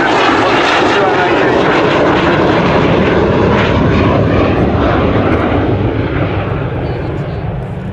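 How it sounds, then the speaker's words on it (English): A propeller airplane flies a display at an air show, its engine a loud continuous drone and roar that fades slightly toward the end, with a voice speaking under it. "Wonderful airplane flying out here today."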